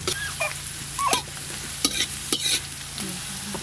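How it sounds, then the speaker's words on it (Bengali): Carrots and beans frying lightly in a pan over a clay stove, a steady close sizzle broken by several scraping stir strokes, with no talk. "গাজর আর বিনস তো একটু শক্ত, তাই প্রথমে হালকা করে ভেজে নিই"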